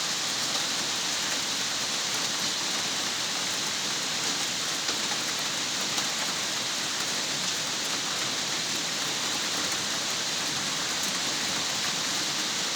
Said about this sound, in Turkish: Müthiş bir yağmur var. Yağmurun sesini de çatından duyuyorsunuz.